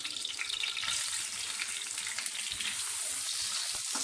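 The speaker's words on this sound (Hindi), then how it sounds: "प्याज को फ्राई करेंगे।" Onions frying in oil for a chicken roll, a dense steady hiss and sizzle at moderate volume with light stirring, no voices.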